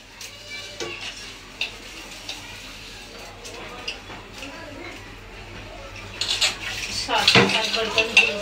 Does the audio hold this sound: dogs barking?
no